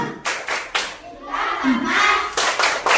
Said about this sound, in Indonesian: Kita akan melakukan tepuk Pancasila